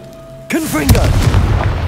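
A Confringo blasting spell in Hogwarts Legacy: a voice casts it, then a sudden loud boom erupts and rumbles on with crackling debris to the end.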